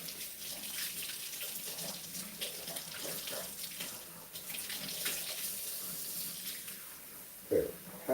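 Water runs from a kitchen tap while a grimy measuring cup is rinsed, a steady close splashing hiss with small clinks, ending in a brief knock.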